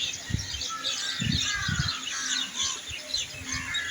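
A morning gathering of birds, including crows, fills the air with dense, continuous chirping and twittering, and a few low-pitched caws and thumps stand out beneath the busy chorus.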